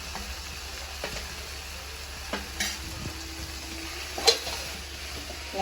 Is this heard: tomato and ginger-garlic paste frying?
yes